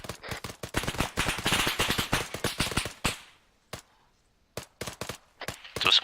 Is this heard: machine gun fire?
yes